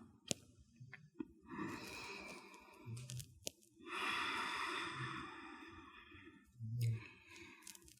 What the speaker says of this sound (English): that's my dog nearby in her bed, sleeping and snoring very loudly right now